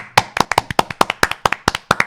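Hands clap in a quick, steady rhythm, about a dozen sharp, close, loud claps over two seconds with no talking.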